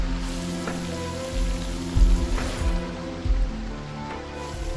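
Steady rain falls and patters on surfaces, a dense continuous wash with a few heavier splashes and drips standing out close by, with no voices.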